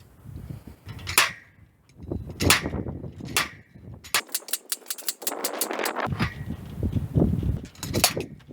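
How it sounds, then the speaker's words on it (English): Sharp metallic strikes from a slide hammer on farm machinery ring out singly, then in a rapid flurry of repeated blows, with wind rumbling throughout at moderate distance. "I'm gonna slap it out with the slide hammer"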